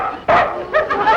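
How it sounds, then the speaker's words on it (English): Neighbors' dogs bark nearby in a 1953 sitcom, a loud yelping bark followed by a couple of shorter yips in quick succession. "They've got barking dogs."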